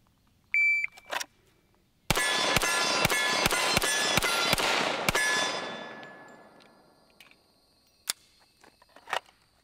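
A Rock Island Pro Ultra Match 6-inch .45 1911 pistol fires about eight rapid, loud, evenly spaced shots in a full-magazine string, and the last blast rings out and fades. A few sharp clicks and bangs come before and after the string.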